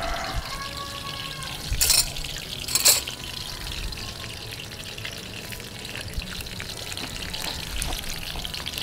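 Shrimp okoy fritters frying in a pan with butter, a close, constant crackling sizzle with a couple of sharp scraping clinks as they are turned over.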